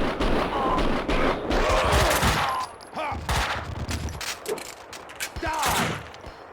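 Gunfire in the action game Max Payne 2, with loud, rapid bursts of shots and heavy impacts crowding together, then sparser shots amid mechanical clatter and a few shouted voices.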